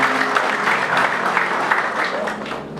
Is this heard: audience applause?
yes